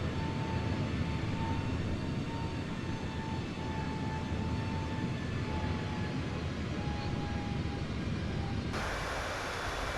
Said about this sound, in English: In the flybywire A320neo, a very reliable aircraft again.